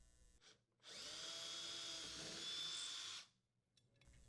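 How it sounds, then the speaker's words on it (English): An electric drill with a 1/8 inch bit whirs steadily for a few seconds drilling holes for a kitchen range anti-tip bracket, close and loud, starting and stopping abruptly with quiet before and after. "Using a 1/8 inch diameter drill bit, drill the holes where marked"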